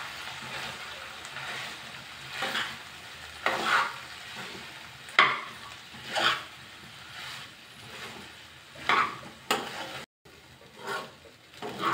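A spoon turns cooked rice and green peas around in a pan, with repeated soft scraping strokes at a slow, uneven pace over a faint sizzle, close by and without talk.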